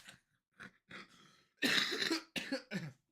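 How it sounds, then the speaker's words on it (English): A person coughs several times in a row, a few short coughs followed by heavier, harsher ones, close and clear with no talking. "Like I still have my cough."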